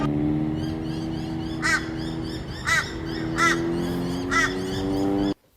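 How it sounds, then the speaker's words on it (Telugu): On Bribie Island, Australia, an Australian crow gives four drawn-out, nasal calls at a steady pace over a constant low hum, and the sound cuts off abruptly at the end. "ఆస్ట్రేలియన్ కాకి సౌండ్ ఇంకా ఇండియన్ కాకి సౌండ్ కొంచెం డిఫరెంట్ ఉంటుంది"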